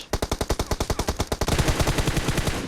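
Automatic weapon fire in PUBG Mobile: a rapid, evenly spaced burst of loud close shots that runs continuously, growing denser and more overlapping toward the end.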